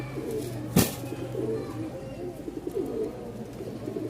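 A Rajshahi Giribaj pigeon coos softly in a loft, its low rhythmic calls repeating faintly over a quiet background with one sharp knock near the start.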